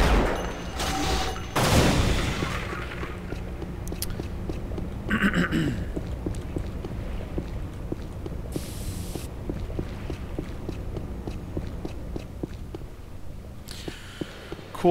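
Sniper rifle shots sound in the Unreal first-person shooter, heard as a few sharp cracks with echoing tails over a steady game ambience, with no talk.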